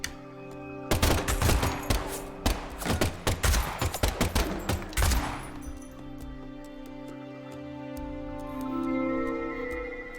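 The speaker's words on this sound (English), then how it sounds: "the last gunshot we heard sounded ominous" Gunfire in the video game Deadly Premonition 2: a loud, dense burst of rapid shots crackling over about five seconds, then dying away into a low ambient hum.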